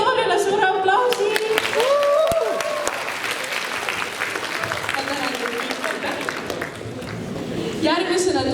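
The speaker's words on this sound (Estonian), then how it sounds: "Teeme Viktoriale suure aplausi!" A school Christmas party audience of grades 6 to 12 gives Viktoria, a girl in a black dress, loud, sustained applause lasting the whole stretch, with voices and whoops mixed into the dense clapping.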